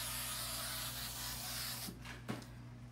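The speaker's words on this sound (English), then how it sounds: "We're going to spray it." Spray adhesive hisses continuously onto fabric for about two seconds, then cuts off, followed by a couple of short bursts and faint handling noises.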